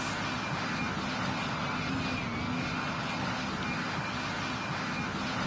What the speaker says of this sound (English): The plane holds and orbits.